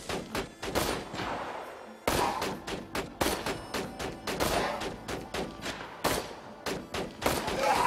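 Rapid bursts of gunfire from a frantic firefight in the video game Borderlands 2, loud sharp shots in an irregular stream with brief pauses and a heavier thud or two mixed in.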